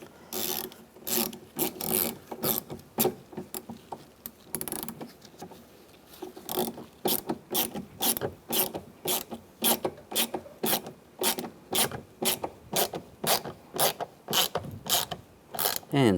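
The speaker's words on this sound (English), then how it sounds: "put that one in and snug it down" Rapid ratchet clicks as screws are snugged down on the front interior door handle of a 2011-2015 Chevrolet Cruz, close and rhythmic, with repeated bursts and brief pauses.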